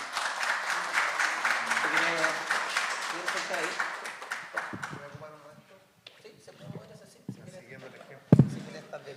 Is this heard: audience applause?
yes